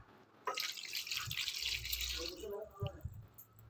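Warm sugar syrup pours over homemade gulab jamun in a steady, close liquid stream that splashes for a couple of seconds, then tapers into a few drips.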